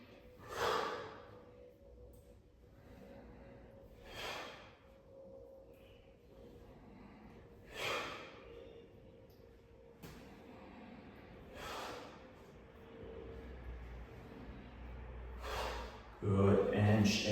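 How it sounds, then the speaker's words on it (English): Forceful breaths pushed out through the nose and mouth during a Tai Chi breathing exercise, five sharp exhalations spaced about every four seconds, close and fairly loud, with a louder rustle at the very end. "breathing out forcefully"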